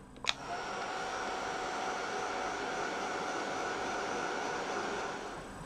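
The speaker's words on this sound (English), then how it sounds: "I'm going to just give it a blast with my heat tool just to dry it off a little bit" Heat tool blowing to dry vellum on a card, a loud steady whooshing hot-air drone that starts after a brief click and runs without pause.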